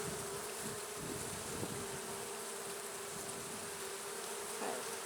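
Honeybees fanning in a nuc hive during an early-season inspection make a steady, close, dense buzzing hum that runs unbroken throughout, with no talking.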